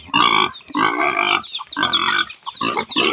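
A large pig grunts loudly and close by in several rough, rhythmic bursts separated by short pauses.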